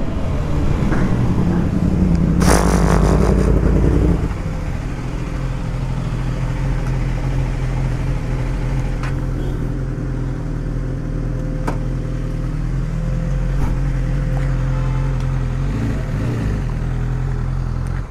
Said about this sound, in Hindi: देखो गाइस कैसे चल रही है हमारी बाइक।